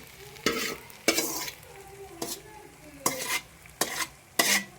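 Maggi noodles are stirred in a pan with a utensil: several sharp scraping strokes at irregular intervals over a low sizzle, each stroke loud and close.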